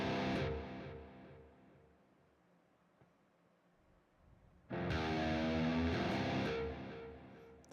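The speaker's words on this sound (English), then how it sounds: "This fucking delay is crazy." Electric guitar played through a delay effect pedal, loud phrases whose echoes trail off into a quiet decaying tail before another loud burst of playing returns.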